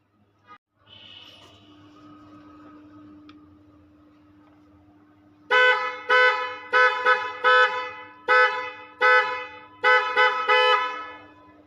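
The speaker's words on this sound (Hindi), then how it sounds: "नया हॉर्न इसमें आया हुआ है। पहले मेरे ख्याल से टी हॉर्न था ना, अब थोड़ा सा अपग्रेड कर दिया गया हॉर्न को" The upgraded horn of a made-in-India electric city bus sounds in about eight loud, rhythmic honks, close up, over a steady faint whine and quiet cabin hum.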